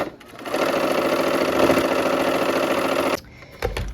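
Domestic sewing machine stitching quilt pieces with the needle set to stop down, a steady close mechanical whir and rapid stitch chatter running for about three seconds, then stopping into a quieter pause.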